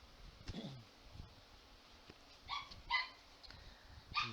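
A puppy gives a few short, sharp yips and barks close by, with small whimpering sounds, separated by quiet gaps in a calm indoor room.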